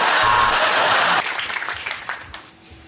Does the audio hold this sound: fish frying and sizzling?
no